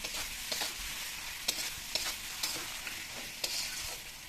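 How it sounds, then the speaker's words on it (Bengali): Tomatoes with salt and spices being stirred in a frying pan, a soft steady sizzle broken by regular scraping strokes of the spoon about every half second, close and fairly quiet with no talking. "নুন দিয়ে একটু নেড়ে ছেড়ে নেবো টমেটোটা খুব তাড়াতাড়ি গলে যাবে"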